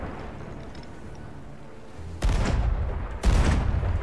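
Cannon fire from a ship in Sea of Thieves: after a quiet stretch, two loud heavy booms go off about a second apart, each with a rumbling tail.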